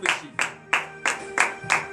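Six slow, evenly spaced hand claps from a church congregation at a morning prayer in Benin, sharp and fairly close with short echoes, no cheering.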